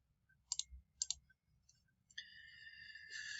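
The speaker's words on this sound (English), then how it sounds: "I'm going to click on that." A computer mouse clicking while building a website, heard as two pairs of crisp close clicks followed by quieter ticks and a thin rising electronic tone, with no talking.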